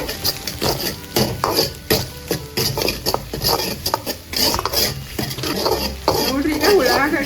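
Garlic, ginger, onion and green chili stir-frying in a pan for Singapore fried rice, with repeated spatula scrapes and clanks against the pan over a light sizzle and some talking nearby.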